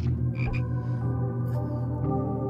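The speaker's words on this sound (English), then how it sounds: "I don't know what I'm supposed to do with these frogs that are like in the high areas." Frogs croak in a video game, a near, continuous low rattling croak with a few higher chirps layered on top, loud and alone without any voices.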